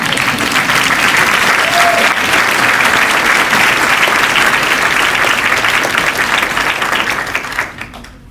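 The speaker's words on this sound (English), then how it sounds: "Why don't you stand and get a little round of applause?" Sustained applause from a symposium audience fills the room, steady and loud for several seconds before tapering off at the end.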